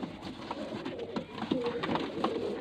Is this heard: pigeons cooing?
yes